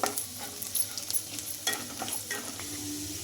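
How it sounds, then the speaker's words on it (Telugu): Chopped garlic, about a spoonful, fries in oil until golden, giving a steady close sizzle broken by several sharp scraping stirs of a spoon against the pan. "బాగా ఇది మంచిగా ఫ్రై అవ్వాలి గోల్డెన్ కలర్ అయితే రావాలి"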